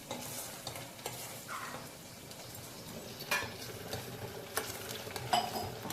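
Masala for chicken curry fries and is stirred in a pan, with a steady sizzle, a soft scraping stir and occasional clinks of a utensil, close up with no talking.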